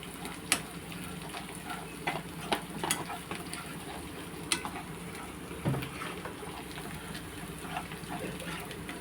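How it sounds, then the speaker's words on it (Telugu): Onions, ginger paste, curry leaves and turmeric frying in oil give a steady low sizzle with occasional sharp clicks and stirring scrapes, close and moderately quiet, with no talk. "ఫస్ట్ ఆయిల్ వేసుకున్నాము, తర్వాత ఉల్లిపాయలు, అల్లం పేస్టు, కొంచెం కరివేపాకు, కొంచెం పసుపు వేసి ఫ్రై చేసుకోండి."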